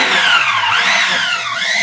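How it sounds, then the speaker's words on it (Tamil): An electric vegetable dicer chopping tomatoes: a loud, continuous whirring motor whine whose pitch rises and falls slightly as it runs. "இப்போ நம்ம இந்த தக்காளியை டைசரில் போட்டு பொடி பொடியாக நறுக்கிக்கலாம்"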